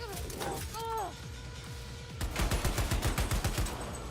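Gunfire in Cyberpunk 2077 while taking a headshot on a sniper: after a quieter stretch with a rising electronic tone, a loud rhythmic run of rapid shots closes the clip.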